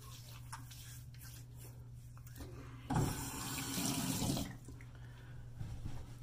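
Water runs from a bathroom tap in a short burst of about a second and a half during a shave with shaving cream, loud against a low steady hum, with quiet handling noises before and after.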